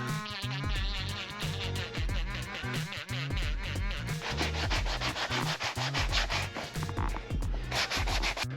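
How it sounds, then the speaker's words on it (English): A small Dremel rotary tool grinds down material on an interior build, a steady buzzing whine that rises and falls in short passes as it bites in, close and fairly loud with no talking. "use a little Dremel here, start to just chop some of this down"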